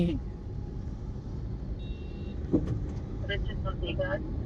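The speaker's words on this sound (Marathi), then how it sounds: "गाडी चालवतोय मी" Steady low engine rumble from inside a moving Uber car on a trip from Pune to Goregaon, with a few brief clicks and faint murmuring voices.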